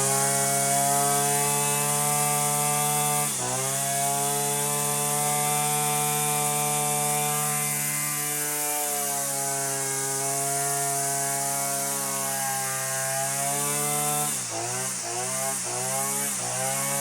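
A cheap Amazon string trimmer with the trimmer head fitted runs at a steady high-revving motor whine for about seventeen seconds, close and loud, dipping briefly in pitch twice as the throttle eases and then picks back up.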